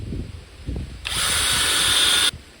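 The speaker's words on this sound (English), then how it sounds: "pre-drill a spot right next to them" A power drill pre-drills a hole in wood beside old nails during a deck repair, giving one steady, loud, high whine of about a second after some quieter handling noise.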